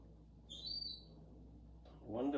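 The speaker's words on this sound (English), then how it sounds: "And then my baby seagull again, what a noise." A baby seagull gives one thin, high, wavering cry over quiet background hiss, followed by a brief, rougher burst of sound near the end.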